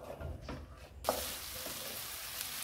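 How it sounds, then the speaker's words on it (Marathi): Onion sautéing in a pan for dhaba-style chickpea masala, a soft steady sizzle with faint stirring scrapes, growing brighter and fuller after a stir partway through, with no voices. "कांदा छान सोनेरी रंगावर परतून घ्यायचा।"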